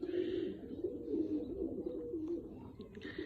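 Pigeons coo in a low, continuous murmur across the whole stretch, steady and fairly close, with faint higher chirps over it.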